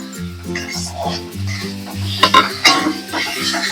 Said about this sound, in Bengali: দেওয়ার পরেও এবার কষিয়ে নেব আরো কিছুক্ষণ